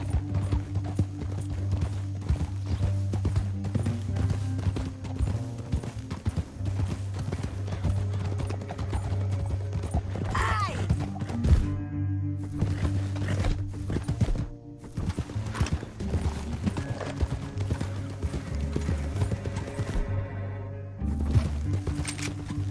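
Horse hooves clip-clop steadily through a rocky canyon in the Red Dead Redemption 2 video game, a loud, continuous galloping rhythm alongside a musical score, with a brief whinny and crash partway through.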